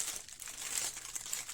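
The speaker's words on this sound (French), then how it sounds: "désolé pour le bruit de papier" Paper packaging around AliExpress baking molds being crinkled and handled, a faint, close, continuous rustle with small irregular crackles, no voice.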